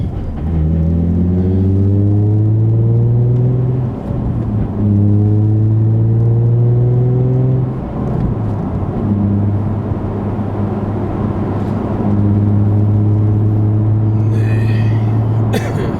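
Nissan 350Z or 370Z fitted with an Invidia Gemini cat-back exhaust and Berk Tech high-flow cats, heard from inside the car: a loud, deep droning exhaust rising through several long pulls with gear-change dips between them.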